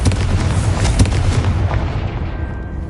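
A Confringo fire spell bursts loudly in the video game Hogwarts Legacy, a dense rumbling explosion with a sharp boom near the one-second mark that fades over the final second.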